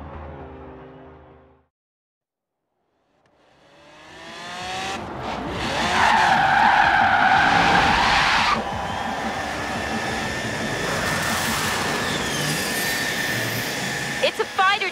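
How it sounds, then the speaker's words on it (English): A fighter jet in Forza Horizon 3 roars up from a brief silence into a loud, sustained engine blast with a high whine, holding steady and close for several seconds. "It's a fighter jet. It has a power plant bigger than your car."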